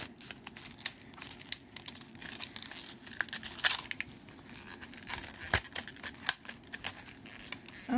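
Scissors snipping through the cardboard box of an Arkham Horror card game starter deck, a steady run of close, crisp clicks and crinkles with occasional louder cuts.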